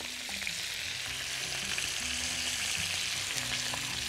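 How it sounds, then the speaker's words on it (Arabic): Garlic slices frying in oil and butter in a wok, a steady soft crackling sizzle with scattered small pops, fairly quiet and continuous with no talk. "اجي بقى للووك اللي حطيت عليها زيت وزبدة، برضو هنزل بشرايح من الثوم"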